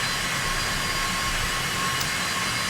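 A Citation X business jet taxiing in X-Plane, its engines giving a steady, loud whine and roar that holds unchanged from start to finish, with no voices.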